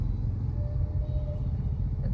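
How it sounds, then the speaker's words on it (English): Low, steady rumble of idling and creeping cars in bumper-to-bumper office-hour traffic on Whitefield ITPL road in Bangalore, a continuous near engine drone with a faint tonal whine and muffled voices in the background. "It's bumper to bumper traffic"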